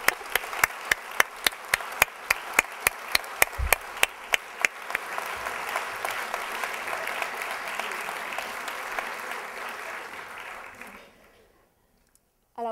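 An audience at a Longueuil swearing-in ceremony applauds the mayor and councillors, with sharp rhythmic near claps at first blending into sustained crowd applause that fades to silence, then a brief sound at the very end.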